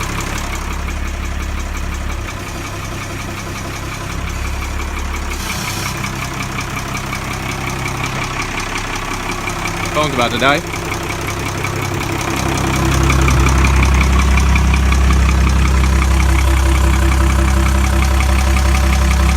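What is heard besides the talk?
boat diesel engine idling in gear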